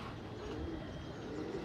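Soft pigeon cooing in a pigeon-flying setting, faint and low, a short murmuring call over steady background noise.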